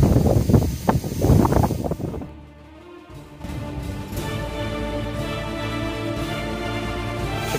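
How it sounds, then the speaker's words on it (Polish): Heavy autumn gale buffeting the microphone with rumbling gusts while fishing, preceded by loud roaring bursts, then a steady blustery roar with rustling. "dzisiaj jest naprawdę tak potężny wiatr"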